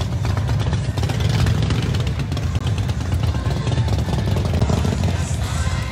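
Motorcycles at the Biketoberfest bike rally, with a steady, loud engine rumble and idling throughout as bikes crowd the street around the listener.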